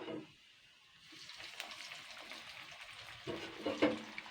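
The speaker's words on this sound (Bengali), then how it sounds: "এটাকে আমি জাস্ট দু মিনিট ভেজে নেবো এপিট ওপিট করে" Fish roe cake frying in a hot pan, a continuous close crackling sizzle that swells with brief spatters near the end.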